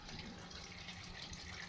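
Water begins running down a drain just cleared of sand and debris after a plumber applied pressure to the drain hole, a steady close rushing, gurgling flow heard alone without talk.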